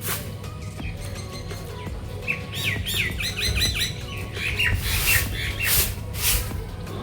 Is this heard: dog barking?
no